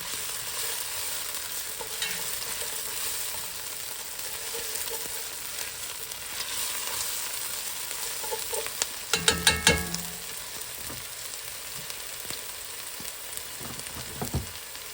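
Half an onion, chopped, fries in a pot for black-eyed peas with collard greens, giving a steady close sizzle with a short burst of clanking stirs partway through and no talking.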